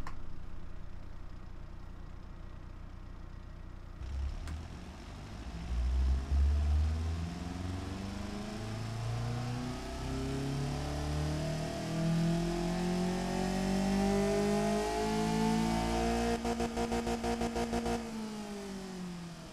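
A car engine in the Automation game revs on a dyno test, a loud, steady sweep climbing in pitch for several seconds before cutting off abruptly near the end.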